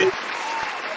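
A short burst of dense applause, steady and full from start to end, with a voice briefly heard at the start.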